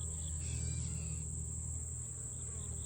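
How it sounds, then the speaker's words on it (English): Honey bees at a hive's watering spot produce a constant, faint buzzing drone, with a steady hum close by and no voices. "These are the water bees that are part of the colony."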